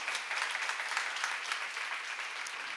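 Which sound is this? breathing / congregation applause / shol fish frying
congregation applause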